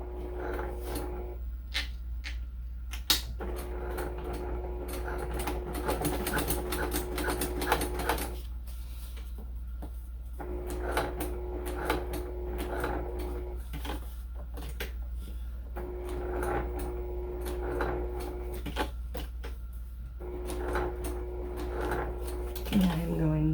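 A home sewing machine top-stitches slowly about an eighth of an inch from the edge, its motor whirring in short bursts separated by pauses and clicks, while someone talks over much of it.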